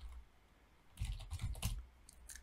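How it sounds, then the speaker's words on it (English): A computer keyboard is typed on briefly while a database port number is entered on the number keys. A few quick, quiet key clicks come in a short burst after a moment of near silence. "I think I'm fast enough to type that if I have my number lock on."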